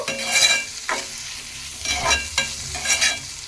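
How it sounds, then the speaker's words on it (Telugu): Raw prawns frying in oil for an Andhra-style gongura curry, stirred with a utensil: a close, steady sizzle broken by several scraping stir strokes at uneven intervals, with no talking. "రొయ్యలు వేసేసుకున్నాం కదండి మంచిగా కలిపేసుకున్నాము"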